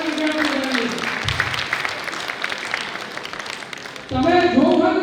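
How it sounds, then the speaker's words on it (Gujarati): An audience at a talent-hunt award ceremony claps steadily throughout, with a voice speaking over the applause at the start and again at the end. "તાળીઓના ગણગણાટ વધારી દઈશું"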